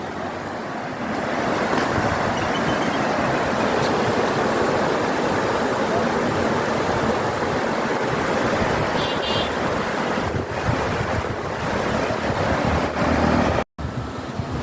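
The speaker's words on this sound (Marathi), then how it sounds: "इथे नदीचं संगीत वेगळंच ऐकू येते छान" Ulhas river water flowing over green-tinged stones below a bridge near Vangani, a steady broadband rush that is loud and close and runs unbroken for the whole stretch, with no talk.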